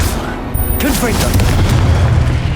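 A Confringo blasting spell explodes in the Hogwarts Legacy video game with a deep, heavy boom that rolls into a rumbling tail, with a voice briefly heard near the start.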